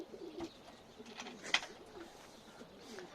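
Soft cooing of Adana pigeons, faint and intermittent, over a quiet background with a brief sharp chirp in the middle.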